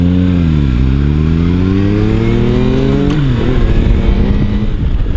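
A Kawasaki Versys-X 300 motorcycle engine revs loudly up and down through gear changes while riding on an Australian road, heard close and continuous with wind noise.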